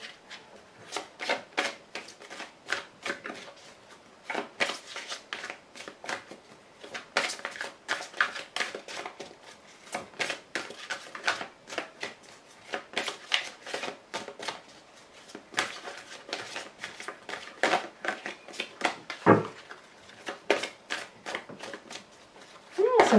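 Tarot cards shuffled and handled by hand in a run of quick, papery riffles and slides, close and fairly steady, with a soft thump near the end; no one speaks over it.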